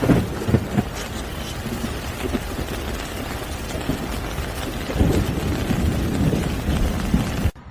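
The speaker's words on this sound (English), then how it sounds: "Because of the heavy rain, cars are going underwater, and the city sidewalks look like lakes." Heavy rain pours steadily during a violent storm over flooded Moscow streets, a dense continuous roar with low rumbling swells like thunder, loud and close, cutting off abruptly near the end.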